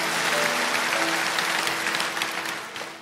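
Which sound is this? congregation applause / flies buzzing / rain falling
congregation applause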